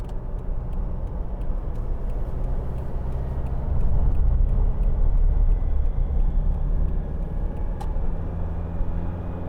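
A 2016 Toyota Hilux 2.5 D-4D double cab on the road, a steady low diesel drone with road rumble and cabin noise, swelling slightly midway, with faint ticking above it and no talk.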